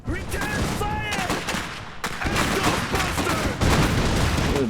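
Gunfire in the video game Iron Harvest: dense, continuous bursts of shots and blasts mixed with game voices, loud and close throughout.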